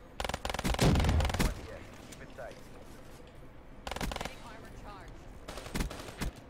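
RK5 pistol fire in a first-person shooter game: two rapid bursts of sharp, loud close-range shots separated by a quieter stretch of game ambience, with no talk over them.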